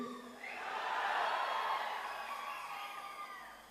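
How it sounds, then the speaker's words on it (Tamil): A large crowd at a film audio launch roars and cheers, swelling to a peak and then slowly fading, with no distinct claps standing out. "இயக்குனர் திரு ப. ரஞ்சித் அவர்களை உங்கள் பலத்த கரகோஷங்களுடன"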